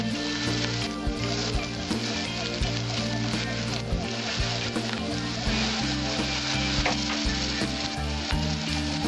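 Chilli powder sizzles loudly in hot oil for a small-fish curry, a dense, crackling fry with stirring scrapes throughout.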